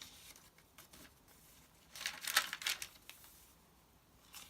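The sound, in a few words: crunchy paper crinkling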